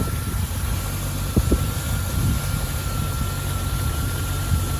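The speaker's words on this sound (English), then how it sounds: "a quick video of the engine running nice and warm on this Land Rover Defender 50th anniversary 4-litre V8 automatic" A Land Rover Defender 90 50th Anniversary with a 4-litre V8, automatic box and standard exhaust idles warm, giving a low, even, fairly quiet rumble with a constant whine and a few faint knocks and taps.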